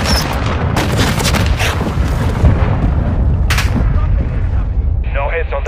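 Artillery fire during a fire mission in the shooter game Call of Duty Modern Warfare 2: loud, continuous booms and rumbling blasts with some gunfire bursts, under radio-style voices.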